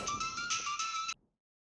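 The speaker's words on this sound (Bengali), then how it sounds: "স্বপ্নদীপ, আমি একবার দেখছি ওকে ফোন করে।" A phone ringtone chimes in one bright, steady burst of about a second, then cuts off into silence, with no talk.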